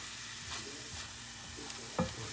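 Onion and chicken frying in butter in a pan while being stirred, a quiet continuous sizzle with soft scraping strokes and one brief clink near the end, heard without talk.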